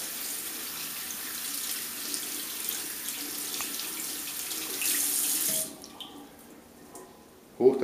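Tap water runs steadily into a sink as hands rub beneath it, then the flow stops abruptly, leaving quiet handling sounds and a brief clatter at the end.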